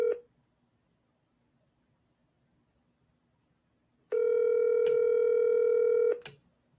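An electronic phone ring sounds on speaker, a short tone at the start followed after silence by one sustained two-second ring, fairly loud and close with no talk over it.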